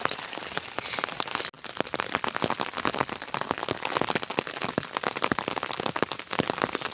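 Monsoon rain falls steadily outdoors, a dense close patter of drops hitting surfaces, continuous and alone with no voices.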